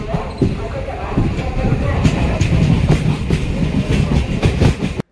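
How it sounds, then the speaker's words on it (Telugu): A train rolls in with a steady, loud rumble and rhythmic clatter of wheels over rail joints. The sound stays close and continuous, with a few sharper knocks along the way. "ఇది రైలు వచ్చేస్తుంది, రైలు వచ్చేస్తుంది"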